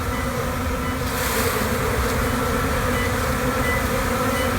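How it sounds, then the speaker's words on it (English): A swarm of honey bees buzzes densely around a beekeeper, a continuous close droning hum that stays loud and steady, with no talking. "I've never been this close to so many bees."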